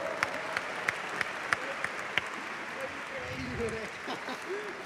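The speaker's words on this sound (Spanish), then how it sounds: "Un aplauso muy grande," An audience at a science talk gives applause that starts with a few sharp, spaced claps, then fades under a murmuring crowd and a voice talking in the background.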